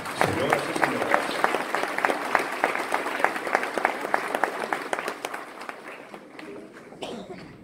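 Sustained applause and clapping from a live concert audience of a Latin American band, dense and steady near the start before thinning and fading toward the end.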